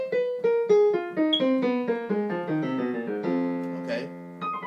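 Notes of an F blues scale with the added flat fifth, played one after another in a steady descending run on a pitched instrument, close and clear with no talking.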